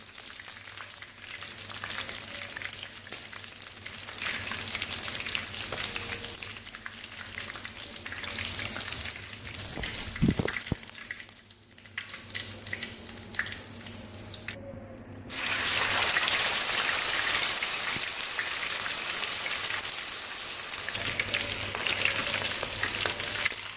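Chicken pieces frying in a pan over low heat, a soft steady sizzle with a brief clatter in the middle, then a louder, brighter hiss of frying taking over for the rest.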